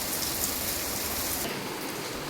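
Steady rain pours in a village setting, a dense even hiss of drops on surfaces that carries on without a break and eases slightly near the end.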